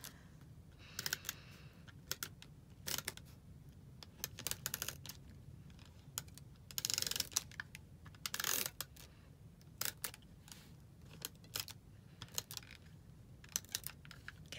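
Snail adhesive tape runner pressed along the backs of small printed paper pieces for a covered notepad, giving quiet, irregular clicks and brief scratchy ticks with pauses between, close and without talk.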